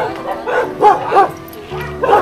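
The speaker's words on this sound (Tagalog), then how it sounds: "Nakatali ba yung mga aso?" Dogs at a gated home bark and yip in short bursts nearby, several quick calls with whimpering between them, voices faintly in the background.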